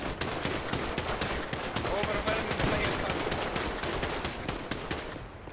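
Rapid suppressing gunfire in a GTA RP house raid, dense automatic bursts crackling continuously from start to finish at a steady loud level, with voices faintly mixed underneath.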